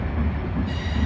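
A train rolls past the Canal Ridge Road crossing, a brief, steady, loud rumble of wheels on rails with a faint squeal, no voices.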